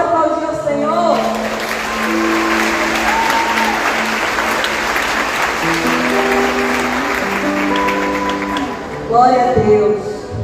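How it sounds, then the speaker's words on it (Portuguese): A church congregation claps and cheers in sustained applause for about nine seconds, a dense wash of hands rising and fading, with a sung or spoken voice carrying over the start and end. "Você pode aplaudir o Senhor?"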